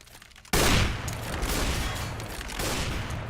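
Rapid AK-47 fire in a Counter-Strike match, a sharp loud burst that opens abruptly and rolls on as dense, sustained gunfire with a second surge near the end, no talk over it.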